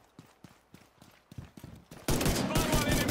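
Rapid bursts of gunfire in the video game The Division 2, loud and dense in the final second after quieter scattered footstep-like thumps, with voices and game effects mixed around it.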